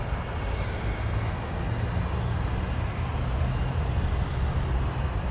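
A Gulfstream G500 jet lines up on the runway at Toronto Pearson, giving a steady, distant engine rumble and broadband roar that holds even throughout with no talk.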